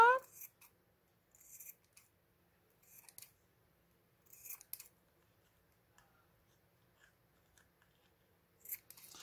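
Small craft scissors snip through yarn while trimming a pompom bunny, giving several short, crisp bursts spaced out over a quiet room with no talk.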